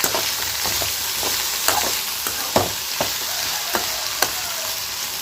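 Okra sizzles steadily in a hot pan, with a spatula scraping and stirring in sharp strokes roughly every half second. No one speaks.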